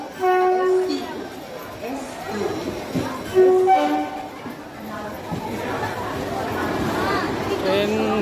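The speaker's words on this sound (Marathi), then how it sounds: "ट्रेन आता सुटली आहे" An Intercity Express pulling out of Lonavala station, with a low rail rumble and a brief horn or whistle under busy platform chatter and close talk throughout.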